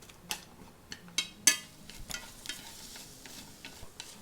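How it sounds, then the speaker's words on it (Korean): Small dried anchovies rattle and scrape in a hot pan as they are stir-fried over medium-high heat, with irregular clinks and light sizzling, fairly quiet and close. "요거 4분 5분만 그냥 타지 않게 노릇노릇 볶아가지고 사용하겠습니다"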